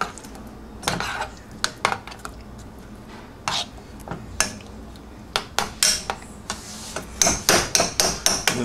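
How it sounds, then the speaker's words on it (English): Metal utensil stirring and knocking against a cooking pot, with scattered clanks early on that become a steady run of sharp, close strikes toward the end. "Stir that in."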